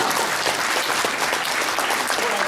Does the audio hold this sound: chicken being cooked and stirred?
no